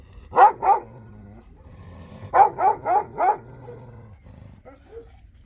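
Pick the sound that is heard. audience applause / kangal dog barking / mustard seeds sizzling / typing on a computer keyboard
kangal dog barking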